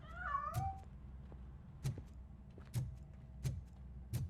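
A cat in the video game Robocop: Rogue City lets out a short, clear meow at the start, then a few dull thumps follow at steady intervals, all quiet.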